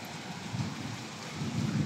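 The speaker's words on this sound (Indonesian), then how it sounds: "Sekejap je hujan lebat." Heavy rain pours down during a flash flood, a dense, loud, unbroken roar of drops hitting surfaces with a low rumbling undertone, steady throughout and no voices.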